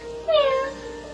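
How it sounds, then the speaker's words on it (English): A cat meow sound effect played from a multi-sound alarm clock, one clear rising-falling meow lasting under a second over faint background hiss. "Cat."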